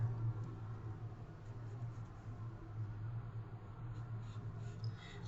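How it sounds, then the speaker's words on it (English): Pencil tracing along the bottom edge of a sheet of tracing paper laid over a paper suitcase cutout, a faint, steady scratchy rubbing that continues evenly throughout, with no talking. "I'm going to trace the bottom edge of my paper."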